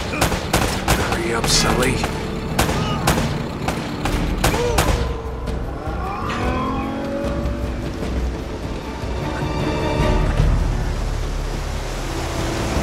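Gunfire in the video game Uncharted: Drake's Fortune, a flurry of sharp loud shots over the first five seconds, then calmer rumbling with water and boat noise, with a voice speaking briefly.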